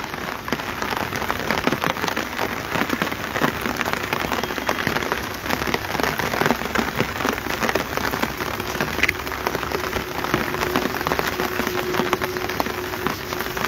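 Heavy rain pours steadily in Shimla, a dense continuous hiss of drops on surfaces that stays loud and even throughout, with no voices.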